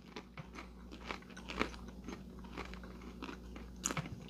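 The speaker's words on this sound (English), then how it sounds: "Crunchy pretzel" A crunchy pretzel cracker is bitten and chewed close up, with a string of sharp crunches and softer chewing crackles spaced irregularly over a quiet room hum.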